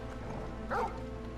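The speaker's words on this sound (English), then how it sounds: "Bark." Torgal, a dog in Final Fantasy XVI, gives a single short bark partway through, heard over a steady game music bed.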